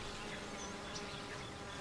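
Honey bees at the hive, a soft, even, continuous buzz with no breaks, faint and steady throughout, without any talk.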